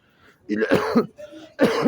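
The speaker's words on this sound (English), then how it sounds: "I cough a lot." A few rough coughs and throat-clearing sounds come in short bursts, close and fairly clear, with a brief pause between them.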